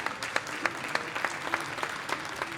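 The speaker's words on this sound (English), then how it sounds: "That was a pretty good clap." Audience clapping at the CreditCon 2025 business conference, a brief burst of moderate applause with dense, even claps, fairly close and without voices.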